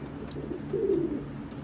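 A racing pigeon coos once softly while being handled and inspected at a loft, a brief low murmur close by with no talk.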